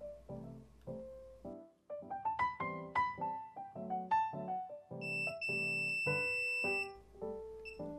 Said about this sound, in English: go through each of the microcontroller pins until you hear a beep